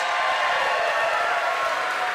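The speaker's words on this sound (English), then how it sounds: "Give them a round of applause." Steady, dense applause from a crowd at an outdoor Freedom to Vote rally in San Antonio, a continuous wash of clapping at even loudness throughout.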